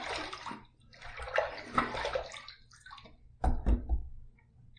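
Water splashed onto the face while rinsing after a shave, close and fairly quiet, with irregular splashing and wet slaps, then a few sharp drips and splashes near the end.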